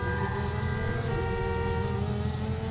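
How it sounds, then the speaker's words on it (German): A car horn in the video game Watch Dogs sounds a sustained, steady tone for a couple of seconds at moderate level, alone without talk. "Das war meine Hupe."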